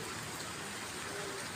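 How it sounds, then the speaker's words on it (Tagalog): Heavy rain pours during a flood in Manila as a dense, steady, close roar of water with no breaks. "O, tama na sana yung ulan."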